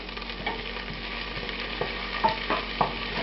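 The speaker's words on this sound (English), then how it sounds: "As it starts to foam up, I'm adding the sliced sections of that onion and the paprika" Sliced white onion sections and paprika frying in foaming butter over medium heat, a steady close sizzle with light scraping stirs and a few brief clinks, no voices.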